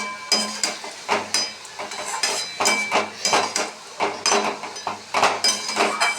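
Spiced vegetable chorchori being mixed in a pot, a spoon scraping and clinking against metal in repeated rhythmic strokes, close and clear.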